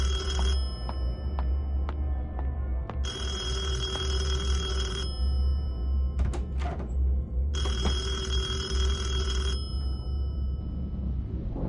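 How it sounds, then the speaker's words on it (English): In the horror video game Detention, an old telephone bell rings in two long bursts of rapid trilling over a low rumbling ambient drone, with a few clicks and thunks in between. "Where the fuck is that phone?"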